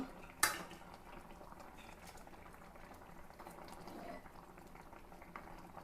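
Fish curry boiling in a pot on a home stove: faint, steady bubbling and simmering with a sharp clink of a utensil near the start and light kitchen clatter, quiet and close with no talking.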